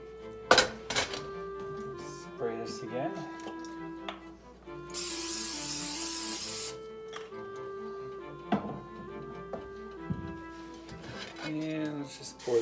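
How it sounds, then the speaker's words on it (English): Cooking spray hisses onto a pan while French toast is being made, a steady broadband burst of a couple of seconds, close and fairly loud, set among light clinks of kitchenware and someone talking. "Now, spray this again."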